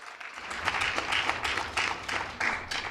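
Scattered audience clapping at a business forum in Ongwediva for the Mayor, a handful of distinct rhythmic claps coming in uneven bursts, moderately close and fairly light.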